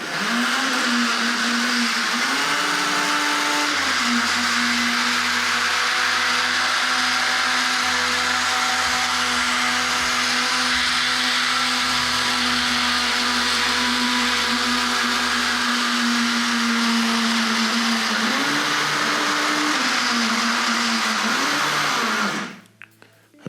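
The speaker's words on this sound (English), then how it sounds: "Now this is going to get noisy while we turn her around." A Hornby model railway turntable motor whirs loudly and continuously as it turns a locomotive, giving a steady buzzing drone with slight pitch wobbles and a low rumble partway through, then cutting off abruptly at the end.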